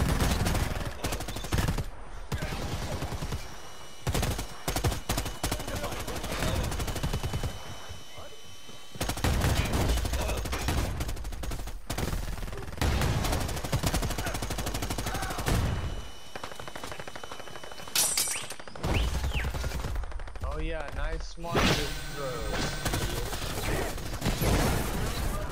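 Rapid volleys of gunshots ring out in a hunting video game, loud bursts and bangs coming in clusters separated by short pauses throughout.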